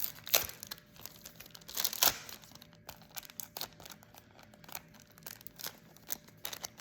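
A plastic ephemera pack being torn open by hand, with close crinkling and a few sharp tearing rips amid ongoing rustling, no voices.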